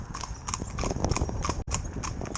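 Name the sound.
horse hooves clip-clopping on road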